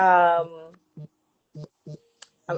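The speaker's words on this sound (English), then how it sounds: "I received text and I don't know how to turn off the text in here, so I'm sorry when my phone vibrates" A mobile phone vibrates from an incoming text, giving several short, low buzzes spaced unevenly after a brief voice at the start.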